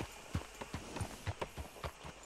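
Horse hooves in Red Dead Redemption 2, a faint, even clip-clop of about ten soft thuds at a walking pace, fairly distant and alone.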